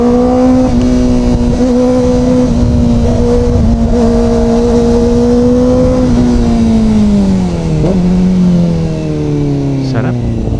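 Kawasaki ZX-4RR motorcycle engine on a test ride, a loud steady high-pitched inline-four whine that holds near and continuous, then drops in pitch as the rider eases off, with wind rush throughout.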